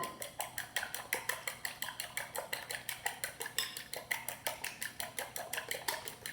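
Eggs are whisked briskly in a bowl, a fast, even run of metallic clicking strokes about four per second, close but soft, with no speech.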